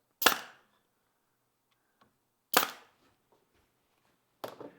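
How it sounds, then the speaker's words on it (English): A staple gun fires galvanized staples into wood on an outdoor planter, three sharp isolated snaps spaced about two seconds apart in a quiet room. "I'm shooting a galvanized staple here."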